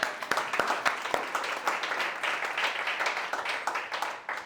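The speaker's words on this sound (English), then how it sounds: "Clap it up for Tiffany." Audience at a storytelling event claps for several seconds, a moderate scatter of individual claps forming steady applause that thins slightly toward the end, with no talking over it.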